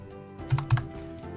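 A short run of keystrokes on a computer keyboard as an IP address is typed into a web browser, close and clear, with a couple of firmer key presses in the middle.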